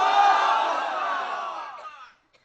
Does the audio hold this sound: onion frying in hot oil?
no